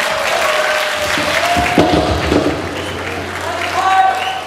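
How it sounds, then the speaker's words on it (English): Applause from the audience at a children's English spelling contest, a steady, moderately loud wash of clapping with a low hum beneath it and a brief thump near the middle. "please give a big applause to support our team now"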